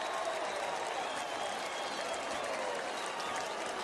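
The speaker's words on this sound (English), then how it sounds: "You hear the crowd clapping it up" Football stadium crowd at a college FCS quarterfinal, Montana State against Stephen F. Austin, clapping steadily throughout as a dense, even wash of applause with faint voices under it.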